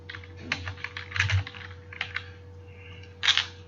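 Keys tapped on a computer keyboard while entering an address into a job form, a close, light run of clicks in short irregular bursts with pauses between, alone over a steady low hum.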